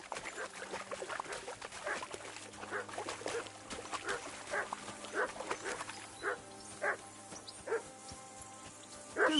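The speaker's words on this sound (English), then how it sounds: "Call that dog, Henry. Who the hell can listen to that?" In the Kingdom Come video game, a dog barks repeatedly in short, yappy bursts at a fairly steady rhythm. The barking is moderately close against a faint background hum.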